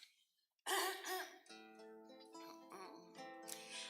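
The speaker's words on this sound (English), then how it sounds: "Excuse me while I cough into the microphone." Two sharp, close coughs into a microphone burst out after a moment of silence at a Shabbat service, followed by a steady, sustained sung tone.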